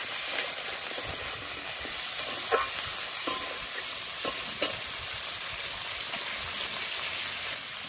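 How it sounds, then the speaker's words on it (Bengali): Young pumpkin greens and bata fish sizzle and fry in a pan, a loud, continuous crackling hiss broken by a few sharp stirring clinks. "এবার আবারও কষে নেব।"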